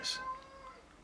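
A single short, faint meow from a cat sounds at the start, followed by quiet background hum.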